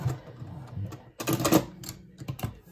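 A sewing machine stitches a zipper into a fabric scrunchie in short bursts of rapid clattering, quiet at first and then a louder run midway, close and with no talk.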